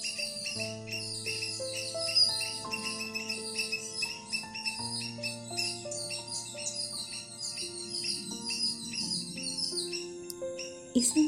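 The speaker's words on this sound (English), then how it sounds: "Isn't it wonderful when the birds and squirrels are making noises?" Birds in a rural village chirp and whistle from nearby trees, overlapping calls and repeated tweets continuing throughout at moderate volume, with no one talking.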